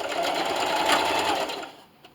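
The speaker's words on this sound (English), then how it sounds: "and just sew down this entire side, backstitching at the end." Sewing machine stitching down the side of a plastic bag dispenser, a fast steady motor whir held for about a second and a half before slowing to a stop, close and alone.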